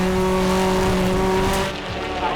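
A BTCC touring car in a 2023 British Touring Car Championship race runs very wide out of a corner: a loud, close, sustained engine howl with a steady tonal whine over rough broadband roar, easing and shifting in the final second.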